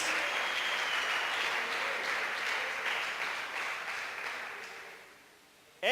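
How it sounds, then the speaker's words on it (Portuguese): A church congregation applauds during a Portuguese-language sermon, a sustained wash of clapping that gradually thins out before a sudden loud noise at the very end. "Dê um aplauso ao Senhor, ao Rei,"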